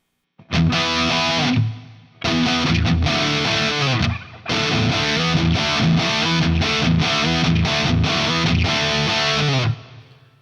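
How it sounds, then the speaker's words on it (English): A distorted electric guitar through a NuX Mighty Plug headphone amp with plate reverb plays chugging riffs in three bursts, each ringing out with a smooth reverb tail that fades after the playing stops. "we're gonna need some reverb for sure. And let's do plates."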